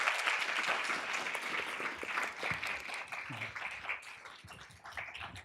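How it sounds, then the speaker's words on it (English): A room full of listeners applauds the speakers after an AI design panel discussion, with dense clapping that starts strong and thins into scattered claps toward the end. "Let's give a round of applause for these amazing speakers."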